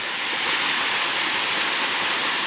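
Bawan Falls thunders as a steady, dense roar of falling water, close and loud, with no break and no voices.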